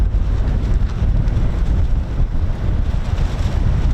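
Strong outdoor wind near the coast batters the microphone with a loud, constant roar and low rumble. The buffeting runs unbroken for several seconds, with no voices.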